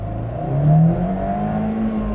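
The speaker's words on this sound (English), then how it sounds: "So even when you rev it hard with the roof down, you don't really hear much." Fiat 124 Spider engine revved hard with the roof down, a steady muted hum and drone that swells briefly near the start and then holds, fairly subdued and without any talk.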